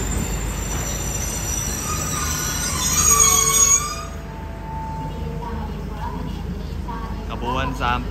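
An extended Thai southern line express train with sleeper cars rumbles past at night, wheels squealing and screeching loudly before easing into a steadier roll, with someone talking over it.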